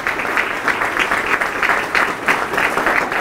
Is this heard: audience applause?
yes